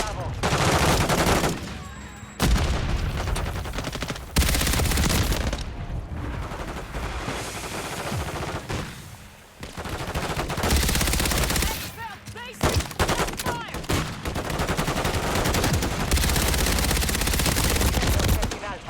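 Gunfire in the Call of Duty Modern Warfare III video game, with dense, loud automatic bursts and single shots in repeated volleys, broken by short pauses, and game voices calling out over the shooting.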